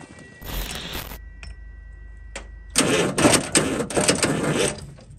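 A converter bus engine with a starter being cranked by key, two bursts of grinding starter whirring separated by a pause, the second longer and louder with rapid pulsing, close and alone.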